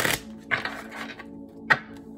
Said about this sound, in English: Let me give you one more shuffle